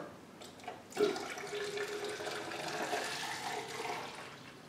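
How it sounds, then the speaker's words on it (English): Tap water runs steadily into an open plastic bottle with its top cut off, a hollow, splashy rush that starts suddenly and carries on alone at a moderate level. "I'm going to fill it up with water"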